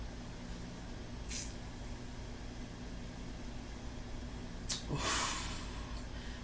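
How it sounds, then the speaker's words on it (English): A brief, loud blowing burst near the end, like someone blowing their nose, over a steady low engine-like hum; a shorter faint puff comes earlier. "I need to blow my nose"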